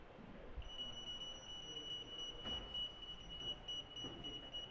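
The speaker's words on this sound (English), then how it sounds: "When you detect the tag, there will be alarm." Electronic anti-theft alarm of an acousto-magnetic EAS system set off by a security tag at a trade show, a thin continuous high tone, faint under a murmuring hall background.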